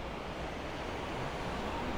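Whitewater rapids at Dowd Chute near Dowd Junction rush in a steady, dense roar of churning water that fills the clip evenly from start to finish, with no voices.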